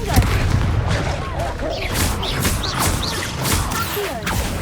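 Confringo blast spells go off in Hogwarts Legacy, with crackling impacts and muffled booms inside a dense, continuous wash of magical combat noise.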